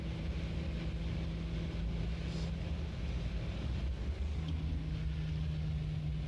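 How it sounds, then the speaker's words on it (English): Onboard a 1970 Holden Torana GTR XU1 race car at Bathurst's Mount Panorama circuit, the engine holding a constant drone under heavy wind rush, with a gear change partway through. "Colin Bond now changing down to third gear and about to complete this lap of the 3 7/8 mile Mt Panorama circuit"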